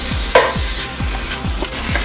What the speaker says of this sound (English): Start frying, we need to fry it like always to the whiteness